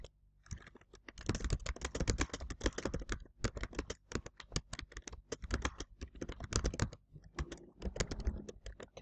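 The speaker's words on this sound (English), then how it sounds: "You type your question in here." Rapid, uneven tapping on a computer keyboard as a question is typed, close and clear with brief pauses between bursts of keystrokes.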